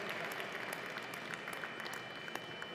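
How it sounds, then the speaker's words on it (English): Audience applause at a technology awards ceremony, a steady wash of many hands clapping throughout, dense and sustained at moderate distance with no voices over it. "Just hold your applause as we get through our partners."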